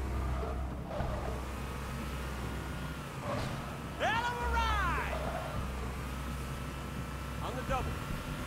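A vehicle drives along a highway in the Halo 3 video game, its steady engine rumble running low beneath the game's voices and chirping alien cries.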